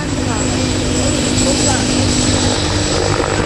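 A military helicopter departs at an air show, its rotor producing a loud, dense, continuous roar with steady engine whine that stays close and constant throughout.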